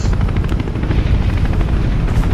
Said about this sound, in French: l'hélicoptère s'éloigne, tout ça. Je l'entends toujours.